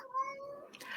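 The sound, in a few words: cat meowing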